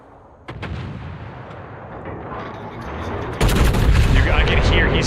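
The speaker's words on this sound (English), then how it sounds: "he's close enough I can hear his guns go off." Enemy warship guns firing in World of Warships, heavy booming blasts starting after half a second and swelling into a louder sustained barrage in the last seconds, with engine rumble and a faint voice underneath.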